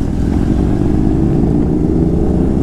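Motorcycles from a bikers' gang riding around Ranchi give a loud, steady, close engine drone that stays continuous throughout, with no voices over it.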